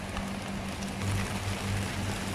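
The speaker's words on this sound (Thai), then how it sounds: "อุ้ยฝนตกแล้วจ้ะ" Rain falls on a small backyard garden of winged bean plants, a steady dense hiss of drops with a faint low hum beneath, continuous and fairly loud.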